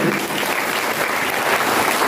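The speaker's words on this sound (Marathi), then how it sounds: "त्यांच्या नावावर टाळ्या वाजवून द्या" An audience at a village women's cultural program claps in sustained, dense applause, loud and close, filling the whole moment without a break.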